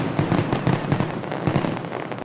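Fireworks at a 4th of July celebration in Spartanburg, a dense barrage of sharp cracking bursts and booms at close range, rapid and irregular over a continuous rumble, with no voices.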